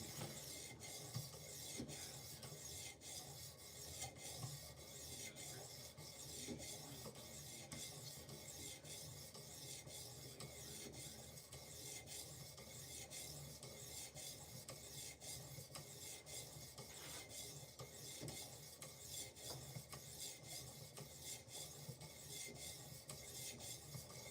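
A knife being sharpened on a fine-grit PDT sharpening stone, continuous rapid back-and-forth strokes making a soft, steady scraping hiss, close but quiet, alone throughout.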